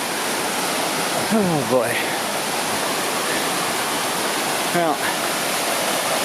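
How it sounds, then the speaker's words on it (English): Steady broadband rush of a mountain stream flowing near a hiking trail in the Adirondack High Peaks, continuous and fairly loud, with brief voice remarks and a few faint bird-like chirps over the water. "We're back and forth over the stream here"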